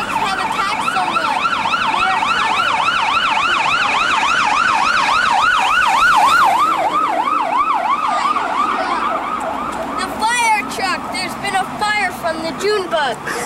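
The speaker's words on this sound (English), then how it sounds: "here comes the ambulance right now, Colin." A close, loud ambulance siren wails and rises and falls in a regular rhythm for about ten seconds outdoors near lakes during a fish fly swarm, and then a voice speaks.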